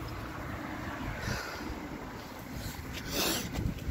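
Steady wind buffeting outdoors, a broad rushing noise that swells louder near the end.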